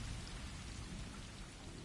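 Rain falls in the video game Stray as a soft, even hiss of drops on surfaces, steady and fairly faint throughout, with no other sounds.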